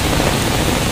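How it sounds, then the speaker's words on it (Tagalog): Heavy rain pours down steadily near a footbridge in Baclaran, a dense, even hiss of drops that fills the whole second with no talking. "Ang lakas ng ulan"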